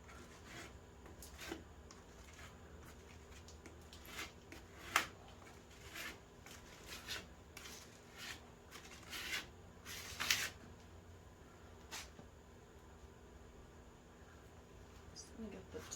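Stencil paste scraped onto a surface for raised stenciling, a series of soft, close rasping strokes at an irregular pace with a few sharper scrapes, quiet throughout.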